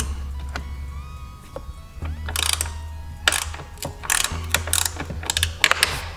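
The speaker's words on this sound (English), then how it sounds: "I can just hook it on to the bolt and ratchet it on off." Hand ratchet loosening bolts on a C7 Corvette during a Lambo door kit install, giving rapid metallic pawl clicking in close, irregular bursts, with soft handling noises between runs.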